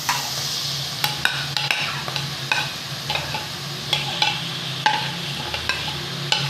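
Tomatoes, garlic-ginger paste and green chili frying in a pan while being stirred, a steady sizzle under repeated clicks and scrapes of a spoon against the pan, close and fairly loud with no talking.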